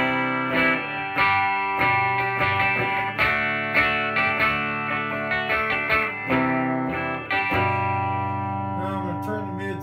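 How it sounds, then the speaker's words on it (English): An electric guitar on the neck pickup plays through a Crate Power Block amp with distortion, sustaining loud, thick chords and notes that change every second or so. "Distortion on the neck pickup."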